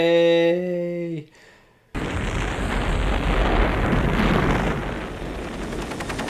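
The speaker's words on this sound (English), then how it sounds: "That was a big explosion." A big explosion in the film Rambo: First Blood Part II erupts after a brief tonal musical note and a moment of near silence, then a loud, sustained roaring rumble fills the rest.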